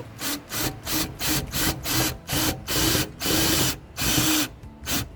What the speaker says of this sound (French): C'est top les autoforeuses, je connaissais pas.